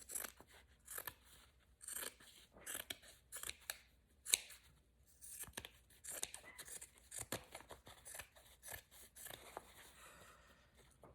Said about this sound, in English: I'm going to cut around the edge, just trim it up